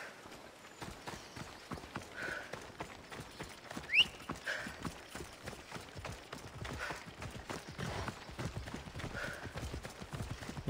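Horse hooves clip-clopping steadily in Assassin's Creed Odyssey, a continuous galloping rhythm across the whole stretch with a brief whinny-like squeal partway through, no talk over it.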